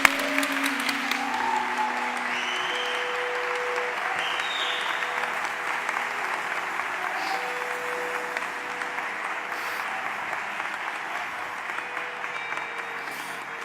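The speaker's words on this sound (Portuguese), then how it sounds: "dê uma salva de palmas a Deus." A church congregation applauding in worship, a dense sustained roar of many hands clapping that holds steady throughout, with faint tones and voices murmuring underneath.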